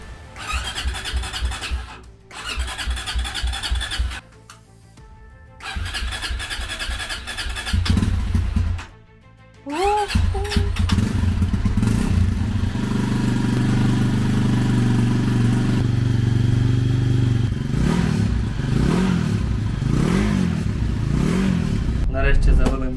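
A VOGE 300 Rally motorcycle engine, started after winter storage, cranks in several short bursts, then catches and runs, revving up and down repeatedly before settling into a loud, steady idle.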